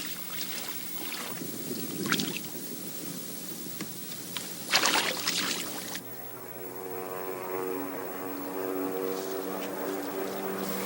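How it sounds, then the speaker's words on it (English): A small plane passing over a wilderness lake, a broad droning propeller hum that swells and steadies with a distinct tonal buzz, heard alone outdoors after a few soft rustles. "The morning silence is broken by the sound of a plane. It must be our ride out of here."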